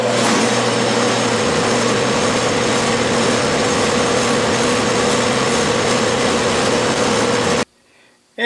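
A steady, loud whirring drone of a drill spotting a hole in metal on a South Bend shaper, running continuously for several seconds before cutting off abruptly near the end.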